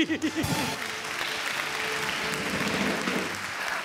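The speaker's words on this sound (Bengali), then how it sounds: "এই জন্য জোরে হাততালি।" Loud, sustained applause from a studio audience at a Bengali comedy show, steady clapping after a brief burst of voices at the start.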